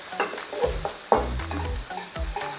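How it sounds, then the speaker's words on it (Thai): Chili and garlic frying and sizzling in hot oil in a small wok over a gas flame, with repeated stirring scrapes and clanks of a utensil against the pan, close and fairly loud. "ใส่พริกใส่กระเทียมเลย"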